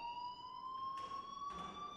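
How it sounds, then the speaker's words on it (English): In the video game Life Is Strange, an electronic alarm rings with a steady, piercing, unbroken electronic tone that carries on throughout, fairly faint and heard alone. "please turn off that alarm"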